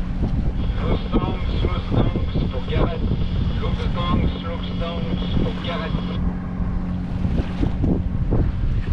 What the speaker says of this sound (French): Donc là on a 10 nœuds à peu près de vent